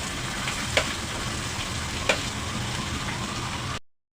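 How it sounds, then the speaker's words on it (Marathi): Onion frying in hot oil on a griddle for spicy egg masala, a steady even sizzle throughout with two faint clinks, cutting off near the end. "तेल तापल्यानंतर कांदा घाला।"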